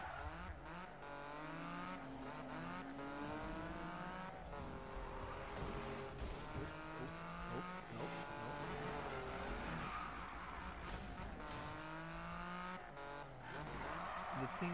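A race car in Need For Speed 2015 drifts and races, its engine roaring continuously while tires squeal and skid through the turns. The sound is loud and sustained, with a voice occasionally talking underneath.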